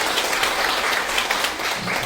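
A forum audience applauds the organizing staff, a thick continuous burst of clapping that stays loud and even for a couple of seconds.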